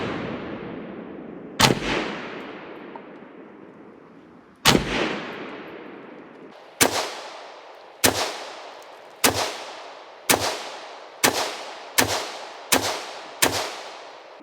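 Ten rifle shots from a Norinco SKS ring out at an outdoor range, loud and sharp, each with a decaying echo; the first two come several seconds apart, then the rest follow in a steady rhythm about a second apart, with no talk.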